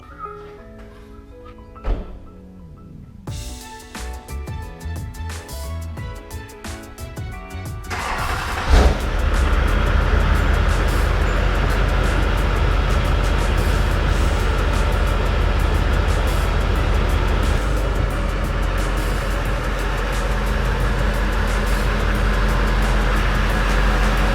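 A dirty Duramax diesel truck starts with a few thunks and clicks. Its engine then settles into a loud, steady running rumble as it is driven into a garage, close by with no talk.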